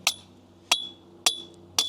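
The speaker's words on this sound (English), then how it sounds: "I'm hammering in this other one right here." A stake hammered into the ground outdoors, four sharp ringing strikes at an even pace about half a second apart, close and alone with faint background hum.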